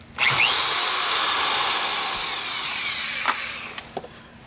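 A power drill spins lug nuts off a wheel on a 1999 Dodge Dakota: one sustained high whine lasting about three seconds, then a few short clicks and clanks as the tool winds down.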